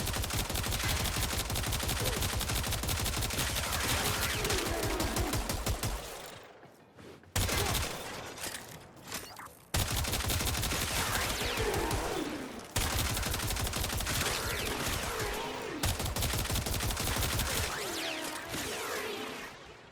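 A Stahlta rifle fires in the Warframe game during a level 130 Steel Path fight against heavy gunners. It comes as loud, rapid continuous bursts broken by a few short pauses, with impact crackles layered over the gunfire.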